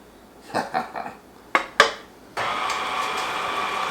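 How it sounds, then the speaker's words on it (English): A spatula scrapes and knocks mashed bananas around a mixing bowl for banana bread, giving a few soft clinks and two sharper taps, then a steady, close whirring noise. "we're going to put the bananas in and scrape it with our spatula"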